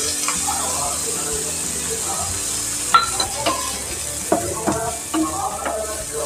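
Vegetables including green chillies and fresh green peas frying in a pan for capsicum paneer masala, making a loud, steady sizzle with a few sharp stirring clinks and scrapes close by.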